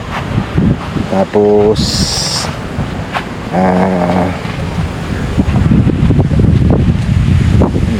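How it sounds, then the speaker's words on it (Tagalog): Strong wind buffets the microphone in a loud, continuous rumble at a campsite in Tanay, Rizal, with a voice speaking briefly over it and a few short tonal sounds in between. "lakas ng hangin, no? Rinig nyo ba?"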